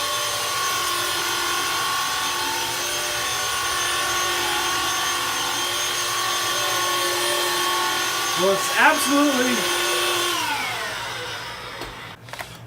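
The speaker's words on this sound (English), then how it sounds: "it did a really good job on that 10 seconds that I was vacuuming" A small Hoover Air Cordless 2-in-1 vacuum cleaner motor hums steadily for several seconds while picking up dog hair, then winds down and stops, with a voice speaking briefly near the end.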